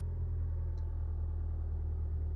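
A 2020 Toyota Camry idling steadily nearby, a low continuous engine rumble with an even hum and no revving, running alone without talk.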